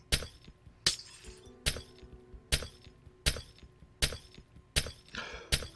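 Panes of glass smashed one after another in TerraFirmaCraft, eight crisp shattering crashes at a steady rhythm with clinking debris after each, loud and near with no talk.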